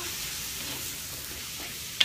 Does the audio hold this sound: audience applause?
no